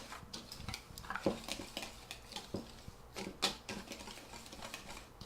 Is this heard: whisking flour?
yes